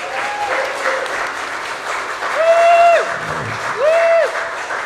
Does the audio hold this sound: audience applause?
yes